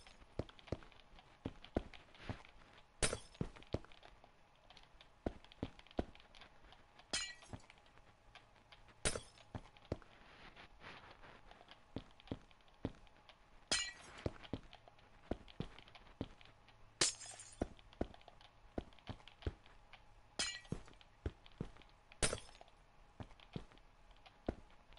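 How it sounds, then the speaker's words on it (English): Glass blocks cracking and breaking in Minecraft while a city is built, heard as sharp, faint clicks and snaps repeating irregularly throughout, with occasional brief bursts of crunching noise and no talking. "Every time I hear this glass crack, I'm just, oh."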